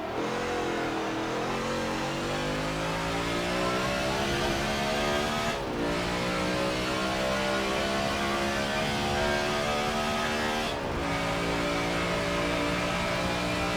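A NASCAR stock car engine in the Forza Motorsport 7 racing game drones loudly and continuously, revving up through long gear pulls with two brief shifts, and no voices over it.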